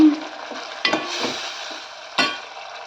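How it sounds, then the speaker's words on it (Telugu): Rasam powder fries with softened tomatoes in a pan, a close continuous sizzle with a few sharp scraping stirs of a spoon against the pan. "నేను రసం పొడి వేస్తున్నాను. రసం పొడి కొంచెం ఫ్రై అవ్వనివ్వాలి."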